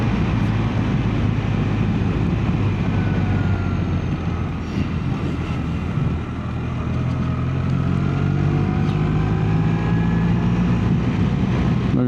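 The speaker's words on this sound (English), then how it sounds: "it's the most powerful boxer engine that BMW have produced to date" A 2026 BMW R1300RS SE with its R1300 boxer engine cruises along a motorway, a loud, steady engine drone mixed with heavy wind rush that holds throughout, with a faint rise and fall in pitch and no talking.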